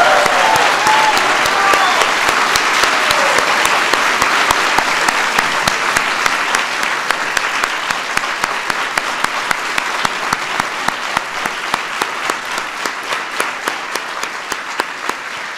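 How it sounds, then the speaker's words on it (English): Standing ovation for award recipients at the National Arts and Humanities Medals ceremony: loud, sustained applause from a large crowd that thins toward the end, where individual claps grow more distinct. "give these outstanding winners or recipients a big round of applause"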